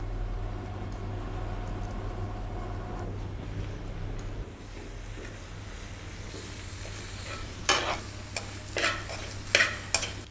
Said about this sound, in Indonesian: Dan kemudian kita masukkan daun jeruk, kemudian daun-daunan terlebih dahulu, serai, dan daun pandan